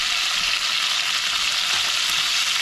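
Oxtail pieces browning in a hot pan, giving a steady, bright sizzle and crackle of frying that holds constant and fairly loud with no talk over it.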